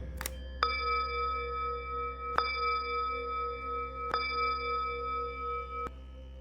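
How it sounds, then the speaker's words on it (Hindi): A temple bell strikes four times at a slow, uneven pace, each ring sustaining a clear, humming tone that lingers between strikes, heard alone in a quiet space. "तभी अचानक मंदिर के अंदर से घंटी अपने आप बजने लगी।"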